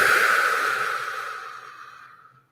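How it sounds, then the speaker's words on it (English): A deep, audible breath taken during a guided meditation, one long rushing airy sound that starts strong and gradually fades into silence over about two and a half seconds. "So breathing in."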